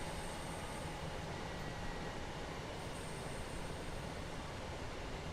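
Steady, dense rumble and hiss of a passenger train braking to a stop in the Train Sim World 5 game, a continuous wash of wheel and brake noise with no pauses.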